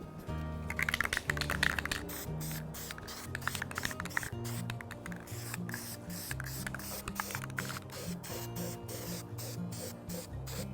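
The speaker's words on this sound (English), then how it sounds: "I'm just going to spray the top lip and the bottom lip" Short bursts of hissing spray from a spray paint can, painting the lips of a paint can, repeat in quick succession over soft background music.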